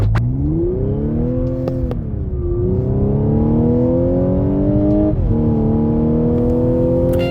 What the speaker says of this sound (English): In the cabin it was like a small tiny note appeared where you can hear the compressor whining